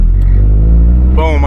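Mazda Miata accelerating hard from 0 to 60, a loud, deep engine roar that builds steadily, with a voice rising over it at the end.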